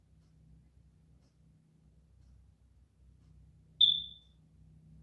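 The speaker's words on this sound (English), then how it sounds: "That's the smoke detector." A single short, high electronic chirp from a smoke detector going off in a house, sharp and fairly clear, breaking a quiet low hum.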